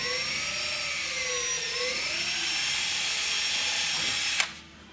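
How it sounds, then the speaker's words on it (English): A power drill whines steadily at high speed while drilling into a boat hull, its pitch wavering slightly as it bites into the material, then cuts off abruptly near the end. "You want to drill straight into the boat for the first part"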